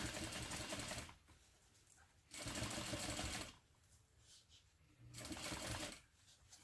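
A sewing machine stitches fabric in three whirring bursts, each about a second long, separated by short pauses, heard up close and fairly quiet.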